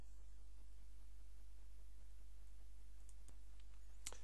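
A couple of sharp, isolated mouse clicks while navigating Foliospaces ePortfolio software, arriving late and close together over a steady low electrical hum, with no talking.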